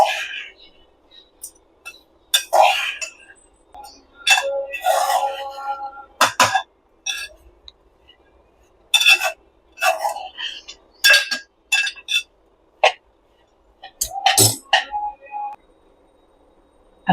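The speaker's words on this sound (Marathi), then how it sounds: "आता आपला काजू आणि अक्रोड तुपावर व्यवस्थित परतला गेलाय।" Chopped cashews and walnuts are stirred as they fry in ghee in a pan. A spoon makes irregular clinks and scrapes against the metal, fairly close, with short pauses between the strokes.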